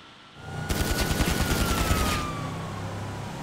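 Rapid automatic AP pistol fire in GTA V, a loud dense burst of shots lasting over a second, with a siren-like tone rising and falling behind it and a lingering rumble afterward.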